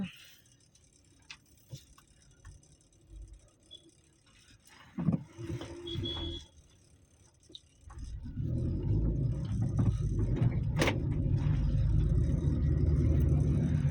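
Car pulling away and driving off along a road: faint knocks and rattles first, then from midway a loud, steady low engine and road rumble that builds and carries on to the end.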